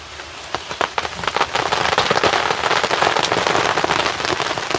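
Rain dripping from trees onto a tarp outdoors in the woods: dense, irregular patter of drops striking the canvas, close and fairly loud, building after a quieter start and continuing steadily.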